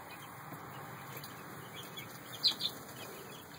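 Week-old Cornish Rock jumbo chicks in a barn peep faintly against a steady background hum, with a couple of slightly louder chirps near the end.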